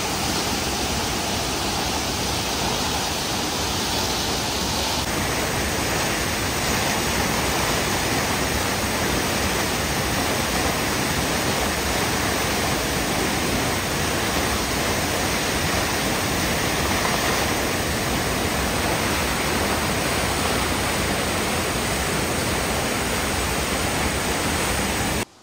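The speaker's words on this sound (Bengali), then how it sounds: "আর কিছুটা সিঁড়ি নামলে আমরা ঝর্ণার কাছে পৌঁছে যাব।" A waterfall roars as a constant, even rush of falling water, a dense broadband wash that never changes, heard from a short distance with no voices.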